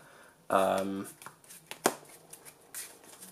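Yu-Gi-Oh trading cards are shuffled by hand in a quick riffling burst, followed by a few soft card taps and handling sounds, close and fairly quiet.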